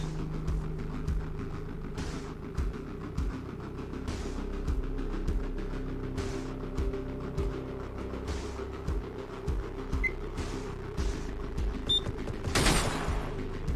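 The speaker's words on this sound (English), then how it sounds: "I like to get them to shoot all their bullets there, it's fun" Enemy gunfire in the video game Receiver rattles off as a string of rapid, moderately distant shots over a low background hum, ending with a louder, sharper burst near the close.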